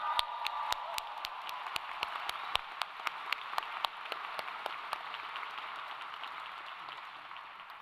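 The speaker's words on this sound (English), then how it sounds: "So now you can applaud." Applause from an audience at a Rutgers graduation convocation ceremony, a soft wash of clapping with a few sharp, distinct claps standing out at first, then settling into a quieter, even patter; distant and faint.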